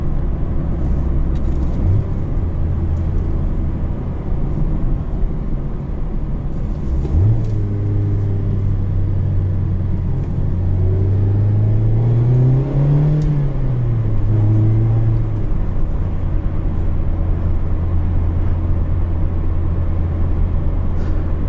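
2019 Mazda Miata RF with manual gearbox and reworked muffler, heard from the cabin: a steady low engine and exhaust drone that swells as revs climb and fall back, with a smooth rising-then-falling pitch sweep midway.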